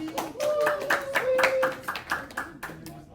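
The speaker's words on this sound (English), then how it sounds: "Hey, round of applause" Students in a chemistry classroom clap in a short, loose burst of individual claps, fairly close, mixed with voices calling out and talking over it.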